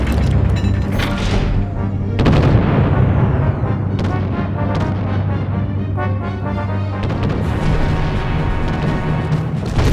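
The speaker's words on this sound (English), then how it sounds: "Enemy vessel destroyed, sir!" Heavy booming blasts as an enemy ship is destroyed in the Treasure Planet space battle game at Procyon, a continuous loud rumble with repeated thudding impacts and crashes throughout, no talking.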